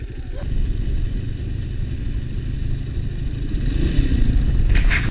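Motorcycle engine near Tanay, Rizal, after motocross riding: a steady loud low rumble running throughout, swelling slightly toward the end.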